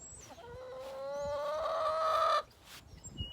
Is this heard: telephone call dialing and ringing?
no